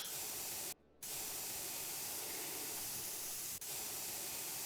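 Steady hissing spray from the video game Junkyard Builder, a continuous loud broadband rush that cuts out briefly near the start and flickers once more before resuming, with no talk over it.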